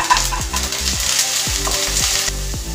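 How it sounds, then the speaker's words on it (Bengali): Ginger garlic paste sizzles with browned onions in a hot pan, a loud continuous frying hiss close up, with faint stirring scrapes and no voices. "এবারে আমি এতে রসুন আর আদার পেস্টটা দিয়ে দিলাম।"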